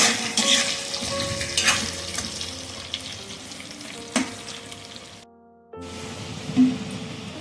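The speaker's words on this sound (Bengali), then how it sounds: "গ্যাসের ফ্লেমটাকে লো রেখে আলুগুলোকে আমি ভালোভাবে ফ্রাই করে নেব।" Potatoes frying in oil on a low gas flame for mutton curry, a steady close sizzle with occasional stirring clatter, briefly cutting to near silence before the frying resumes.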